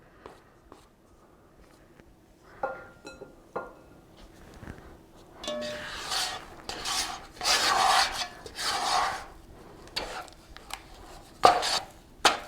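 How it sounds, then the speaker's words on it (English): A bread scraper scrapes and slaps through wet bread dough in a bowl, irregular rubbing and scraping strokes growing busier midway, close and fairly quiet with no speech. "I'm going to use this bread scraper to kind of mix it. It's going to be a pretty wet dough."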